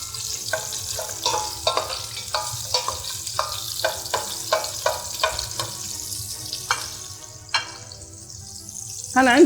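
Onion frying in a pan in a kitchen, a bright sizzle with a run of rhythmic scraping stirs over a low background hum, a clatter near the end.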